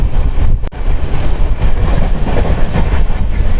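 Kulik Express running on rails with new LHB coaches, heard as a steady, loud rumble of wheels with a sharp click near the start and wind buffeting the microphone throughout.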